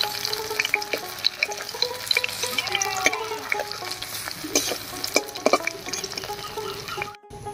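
Lentil-stuffed pumpkin leaves fry in mustard oil in a pan, giving a soft, steady sizzle with scattered clicks and scrapes as the leaves are turned, fairly quiet and with no talking.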